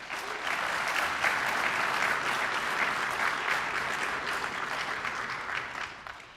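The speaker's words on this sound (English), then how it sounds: "So one more round of applause for them." Sustained applause from a crowd at a youth soccer club's senior night, steady dense clapping for the graduating players that holds for several seconds before tapering off at the end.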